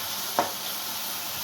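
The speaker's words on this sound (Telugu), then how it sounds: "అలాగే దోసకాయ ముక్కలను కూడా వేసుకొని వేయించుకోవాలి." Tomato and cucumber pieces fry in a pan with a low, steady sizzle, broken once by a single short clink of a utensil against the pan.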